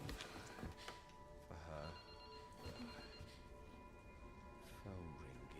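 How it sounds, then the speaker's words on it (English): A telephone rings in the video game Resident Evil 9, its steady electronic tones repeating through the clip under talking voices and game sounds. "Phone ringing."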